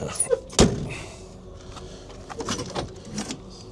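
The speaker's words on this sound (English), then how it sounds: "I'm always amazed sometimes at how strong some of these doors sound, even after all these years when you close them" An old classic car's door shuts solidly in a salvage yard: one sharp, heavy thud near the start, followed by softer clunks and handling noises.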